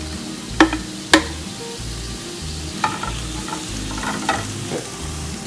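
Scrambled ostrich egg with onion, tomato, coconut and coriander sizzles steadily in a pan, with a few sharp spatula scrapes and knocks as it is stirred, close and clear, with a brief word spoken.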